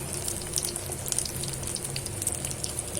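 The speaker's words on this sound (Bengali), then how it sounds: "এভাবে সুন্দর করে ভাজা হচ্ছে মিডিয়াম টু লো হিটে ভাজা হবে" Eggplant fritters (beguni) fry in oil over medium-low heat, giving a steady, fairly quiet bubbling hiss with faint crackles throughout.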